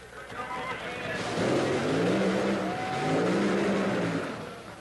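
Top Fuel dragsters on nitro roar down the strip in a first-round Top Fuel Eliminator race, loud engine noise rising and falling in two sweeping passes with a steady rumble beneath.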